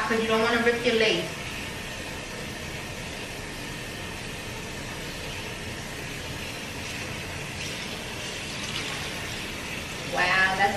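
Warm water runs steadily from a tap as a wig is rinsed under it, a close, even hiss lasting most of the clip, with voices briefly at the start and end.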